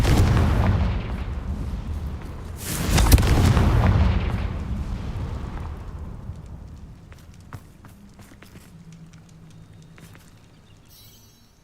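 A Confringo blasting spell in Hogwarts Legacy erupts in a loud, deep explosive roar that swells around the third second, then rumbles and fades into softer crackling debris.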